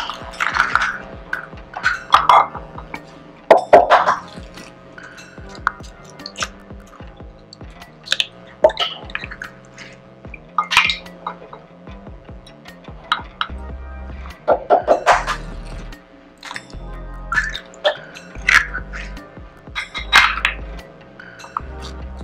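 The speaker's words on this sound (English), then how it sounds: "I'm going to just whisk that until the eggs are mixed in really well" Eggs being whisked into milk in a bowl for baked macaroni and cheese, giving repeated wet sloshing and clinking strokes of a whisk against the bowl throughout, close and steady with a low hum underneath.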